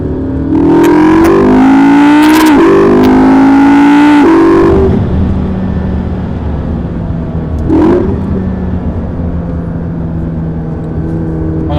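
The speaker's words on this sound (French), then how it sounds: "on entend bien le moteur quand même" A McLaren MP4-12C engine revs hard and climbs in pitch during a loud acceleration, then drops back to a steady rumble with a brief second surge later, close and dominant.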